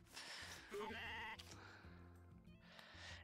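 Sheep bleating in the farming video game Story of Seasons: A Wonderful Life, a close, clear, wavering bleat over soft game background sounds, followed by a second shorter bleat near the end.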